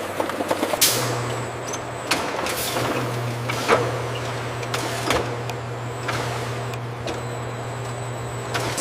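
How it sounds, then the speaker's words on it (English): A rotary filler spins on a high-volume pear canning line, giving a steady low machine hum under repeated clanks, hisses and metallic knocks from the factory equipment. "With incredible speed, the rotary filler spins, ensuring not a single drop is spilled."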